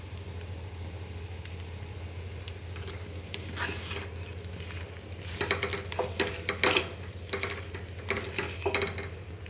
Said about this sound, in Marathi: बटाटे छान मिक्स करून घेते यामध्ये चवीनुसार मीठ घालून घेते